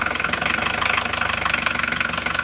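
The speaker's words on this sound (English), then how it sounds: "the first thing we want to do is fire the engine up and let it get up to temperature" A marine diesel engine idles steadily just after start-up, with a rhythmic knocking chug repeating evenly under a mid-range mechanical drone, close and alone without speech.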